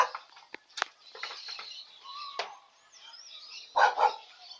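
A dog gives a few scattered barks at a distance, with two louder, closer barks near the end amid faint background chirps.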